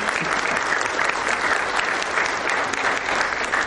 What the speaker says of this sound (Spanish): Así que para ella, con gusto, un aplauso